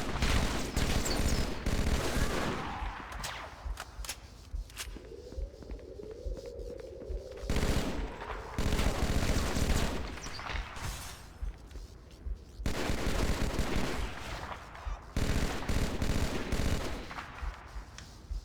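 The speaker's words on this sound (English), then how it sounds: "Hey look, it's almost like a normal battle rifle." Battle rifle gunfire in Halo CE during the Assault on the Control Room mission: loud, rapid bursts of shots broken by short pauses, with a soft whirring tone between volleys and no speech.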